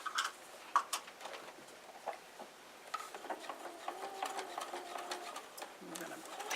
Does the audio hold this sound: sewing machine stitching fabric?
yes